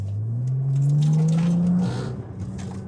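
A 400 hp BMW 335i (F30) engine revs up with a rising drone that climbs steadily, then drops off as the car keeps rolling.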